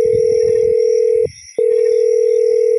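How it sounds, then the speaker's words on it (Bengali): A mobile phone rings with a steady electronic tone, sustained, broken by one short gap, then resuming, loud and close with no talk. "ঠিক তখনই করণের মোবাইল বেজে উঠল"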